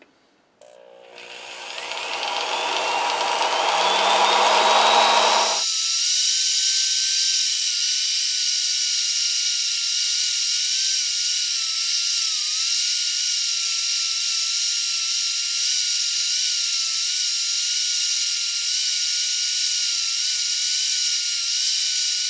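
A cross drill jig bores a quarter-inch cross hole in a lathe tool holder. The motor spins up over a few seconds, then settles into a long, steady, high whine with a constant hiss and no talking.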